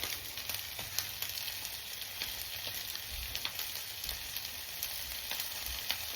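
Olive oil sauce sizzles steadily in a grill pan with chicken, a dense continuous frying hiss with faint crackles throughout.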